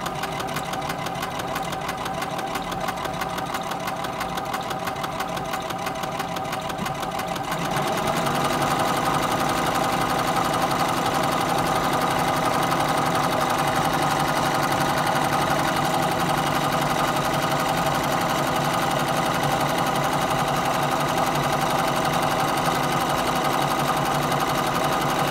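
A sewing machine stitches fabric while sewing tensioned elastic, first with a lighter mechanical hum, then with a louder, dense and steady whirring run of rapid stitching, close and continuous with no talk.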